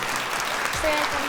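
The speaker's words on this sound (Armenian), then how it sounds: "մեզ ստիպել որպեսզի մենք հոտնկայս ծափարենք" An audience at a televised talent show quarter-final rises in a standing ovation, dense clapping that fills the hall, while a voice speaks over it partway through.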